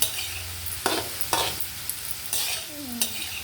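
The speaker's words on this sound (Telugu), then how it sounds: "జీడిపప్పు ఫ్రై చేస్తాను." Small cashew pieces frying in a pan, a steady sizzle broken by several sharp stirring scrapes, close and moderately loud, with no voices.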